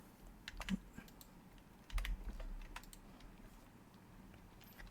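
Computer keyboard keys are typed in a quiet room while entering a spreadsheet formula, giving scattered clicks in short bursts with a couple of heavier strokes, close and fairly soft, with no talking.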